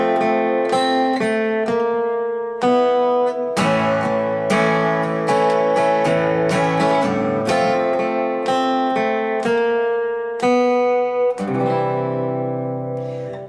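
Guitar playing a song's fake-out ending, with strummed chords and picked notes ringing out in bursts separated by short pauses, loud and close, the last chord left to decay.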